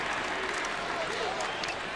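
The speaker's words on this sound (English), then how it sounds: "And the crowd goes wild." A basketball arena crowd at a Dallas Mavericks versus Boston Celtics game roars and applauds in a continuous wash of noise, with a commentator talking over it.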